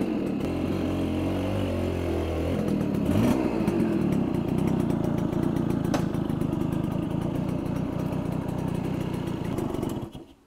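An old moped in well-used working condition idles steadily up close, its small engine putting out a continuous buzzing putter that shifts slightly before cutting off at the end.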